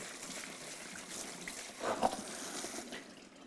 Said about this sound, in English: We'll rinse them quickly here in the basket.